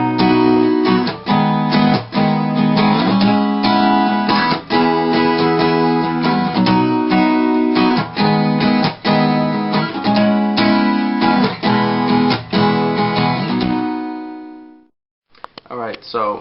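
An acoustic guitar strums the repeating four-chord change from the verse of a song, loud and close, with steady rhythmic strokes and chords ringing into one another before a brief pause and a few final sounds.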